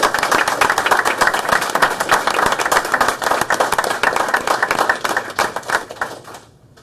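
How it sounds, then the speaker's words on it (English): At a Harrisonville Board of Aldermen meeting, a roomful of people applauds the fire department with brisk, close, sustained clapping that carries on steadily and then tapers off at the end. "Give them a round of applause."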